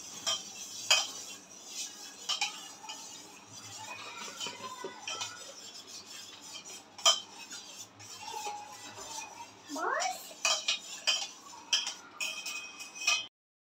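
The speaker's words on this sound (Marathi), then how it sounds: "छान मिक्स करून घेऊया" A spoon scrapes and clinks against a bowl while stirring a homemade buttermilk candy mixture, with soft irregular taps and light scraping that continue steadily and fairly quietly.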